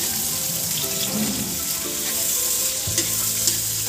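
A spoon stirs sautéed onion and tomato with chicken in a hot pan, with a constant sizzle of frying and a few scraping strokes, close and fairly loud.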